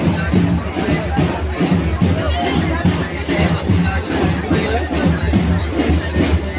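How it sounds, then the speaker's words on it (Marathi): A crowd of customers mills around sweet stalls at a village temple fair in Konkan, a dense hubbub of overlapping voices and chatter close by, continuous throughout. "ग्राहकांची गर्दी आहे"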